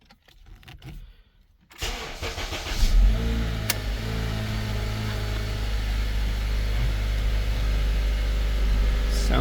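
After some handling noises, a 2012 Acura TSX engine cranks and starts, then settles into a steady, deep running rumble that continues to the end.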